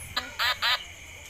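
A duck quacks during an animal sound guessing game: one short call followed by two longer nasal quacks in quick succession, close and clear over a quiet background.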